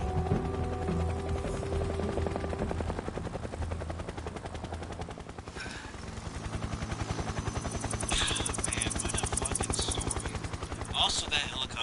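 A helicopter in the video game Metal Gear Solid 3 gives off a continuous, pulsing rotor thrum with bursts of machine-gun fire and gunshots layered on top, loud and sustained throughout.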